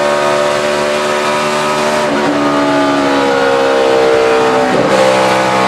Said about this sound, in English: You heard how little time Tony Stewart was off the gas from transitioning that car from the back straightaway into the banking of turn 3